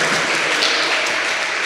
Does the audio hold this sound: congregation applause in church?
yes